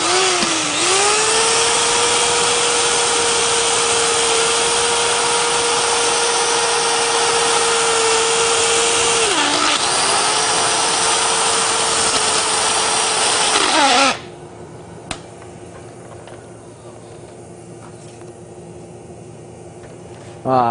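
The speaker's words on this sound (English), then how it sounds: "My sander appears to be on its last leg, which is fine." A power sander, worn and on its last leg, whines steadily against wood for about fourteen seconds with a brief dip in pitch partway through, then cuts off, leaving a quiet room hum.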